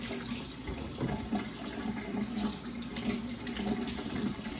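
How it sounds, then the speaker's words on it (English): Tomatoes are washed under a kitchen tap, with a steady stream of running water splashing into the sink, close and continuous throughout. "So I'm going to wash the tomatoes."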